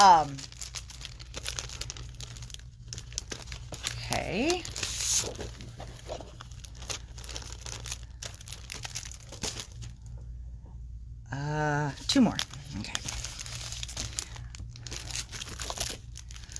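Wrapped paper cards are unwrapped by hand with repeated crinkling and tearing of plastic wrap, coming in bursts with pauses, close and fairly loud, while someone speaks briefly between them.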